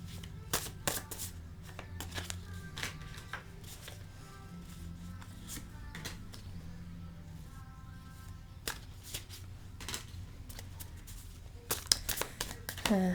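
Soft, repeated riffling and snapping of tarot cards being shuffled, with brief bursts and pauses throughout, close and fairly quiet.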